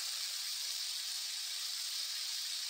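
Chopped onion hitting hot oil in a pan while pumpkin is being fried, giving a steady, bright sizzle that holds evenly throughout with no talking.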